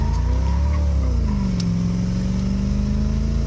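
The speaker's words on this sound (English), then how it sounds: "it's time to do some 0 to 60 testing." A small block Chevy car with a tuned carburetor accelerates hard in a 0 to 60 run, its loud engine note climbing, dipping briefly at a shift, then pulling steadily again, with no voices.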